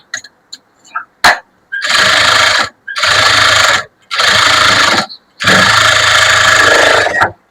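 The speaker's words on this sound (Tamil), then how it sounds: "படிமான தையல் போடுறதா இருந்தா இப்படி போடணும்" A sewing machine stitches a blouse lining: a few light clicks and a short tap, then four loud, sustained bursts of fast mechanical whirring separated by brief pauses, very close.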